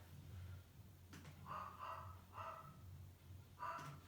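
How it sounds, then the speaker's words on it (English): A dog barks three or four times in the background, muffled and moderately distant, the short woofs spread across a few seconds over a steady low room hum. "You can hear my dog in the background."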